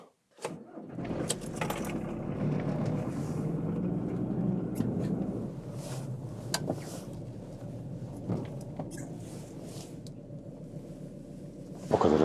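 A 25-year-old motorhome driving along the road, a steady low engine drone with road and wind rumble inside the cabin, occasional rattles and jangling knocks over it.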